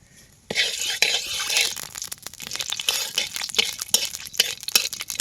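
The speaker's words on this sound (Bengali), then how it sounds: "আর লবঙ্গ এটাকে ভালো করে ভেজে নেব" Whole cloves and spices frying in a pan for fried rice, with a hissing sizzle and scattered scrapes and taps of a spoon against the pan, close and fairly loud.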